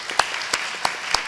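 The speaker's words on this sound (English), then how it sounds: "So I appreciate the applause for the plans." A few scattered, separate hand claps from a small number of people at a family-stress and Healthy Start program talk, about four distinct claps spaced across a quiet moment.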